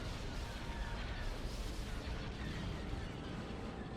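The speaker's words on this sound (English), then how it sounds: "There's HV gunshots coming in" Continuous rumbling barrage of heavy HV gunfire and explosions striking a ship in a CIS campaign battle of the space strategy game Empire at War Expanded, dense and steady throughout with no pauses or talk.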